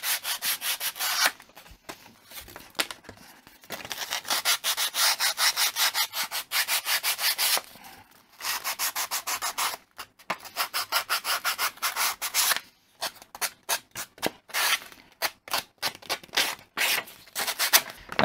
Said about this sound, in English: just a bit of sandpaper, just to rough it up